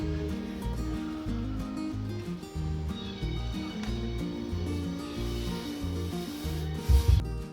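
Scrubbing of a dirty bathroom floor, a steady run of rough back-and-forth rubbing strokes close by, with a brief louder scrape near the end.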